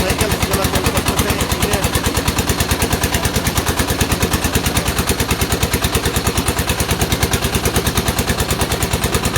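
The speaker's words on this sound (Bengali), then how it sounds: "মোটরসাইকেল চলাচল করতেছে।" A motorcycle engine running nearby, a loud, steady rapid-fire thumping rhythm that holds evenly and continuously, with no break and no talking.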